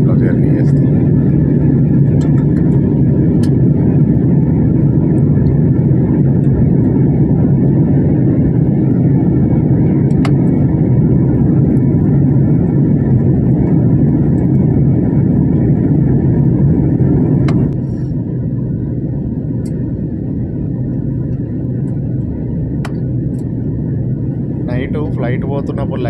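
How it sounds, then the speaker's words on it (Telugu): Inside an airplane cabin during a night landing at Mumbai, a loud, constant engine and air rumble fills the space and eases slightly lower near the end, with a voice talking over it. "ఇక ల్యాండ్ అవుతాం మనం కొద్దిసేపు"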